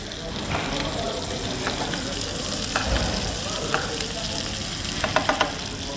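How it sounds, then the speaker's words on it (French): Butter crackles and sizzles in a pan while red meat is basted, a dense close frying hiss with scattered spoon scrapes and pops, louder clicks near the end. "le beurre crépite sur la viande"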